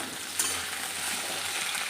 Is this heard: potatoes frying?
yes